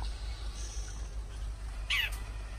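A shrike mimicking other birds gives one short, harsh, squealing call against a quiet outdoor hum.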